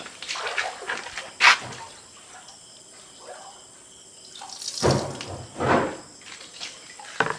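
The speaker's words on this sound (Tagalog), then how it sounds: "lagay mo uli ng tubig para kumalat" Water is poured into a catfish breeding container in short, splashy gushes over a soft running trickle, with louder pours near the start and toward the end.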